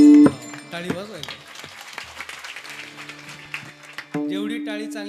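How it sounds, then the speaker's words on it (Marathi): Audience hands clap along during a Marathi devotional kirtan, a dense patter of claps running beneath sung chanting and sustained musical tones, with voices singing throughout. "टाळी वाजवायची."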